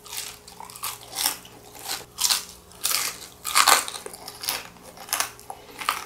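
Repeated crisp crunching bites into fried chicken, about one every second, loud and close, with chewing in between and no talking.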